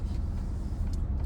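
A car heard from inside the cabin while driving away from a camp: a steady low engine and road rumble that stays even throughout, with no talk.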